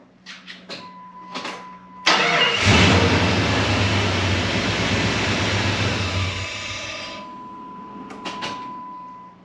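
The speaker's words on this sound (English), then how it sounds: "now we will run the Jeep," A Jeep Grand Cherokee ZJ engine, fuel pump relay pulled, fires up after a few clicks and runs with a steady loud idle for about five seconds before sputtering and dying as the fuel runs out, followed by a few faint clicks.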